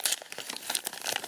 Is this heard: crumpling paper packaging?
yes